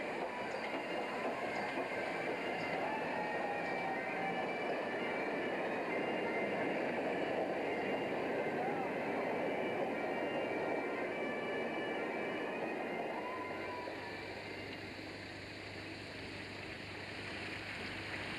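A steady, broad rumble of the Flying Scotsman steam locomotive train rolling along in Australia, continuous and fairly distant, easing off slightly toward the end with no voices.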